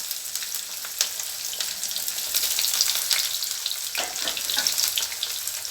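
Garlic and onions sauté in a pan with a steady broad sizzle and occasional stirring scrapes, close and moderately loud, without any talk over it.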